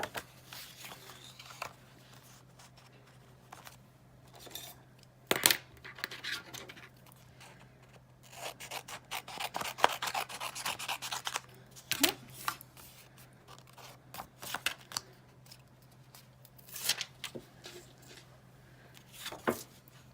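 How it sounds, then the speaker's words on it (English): Cardstock and an adhesive sheet are trimmed to size, giving quiet papery scraping and cutting sounds in irregular bursts with occasional sharper snips. "I'm going to take an adhesive sheet, and I'm going to trim this down to fit on top."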